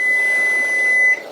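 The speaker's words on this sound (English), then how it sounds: "we'll be right back with you as soon as we get the buzzer to go off." A single steady electronic tone from an oven timer sounds loud and close for about a second, then cuts off into quiet room noise.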